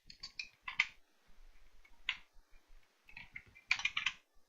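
Bursts of keystrokes on a computer keyboard as code is typed, in short irregular clusters separated by pauses, fairly close and moderately quiet with no talking.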